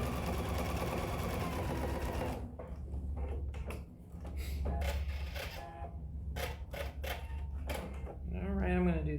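Close by, a sewing machine stitches a pocket bag with a steady, rapid mechanical whir. It stops, and then come clicks and handling noises, short bursts of sewing, and a voice speaking at the end.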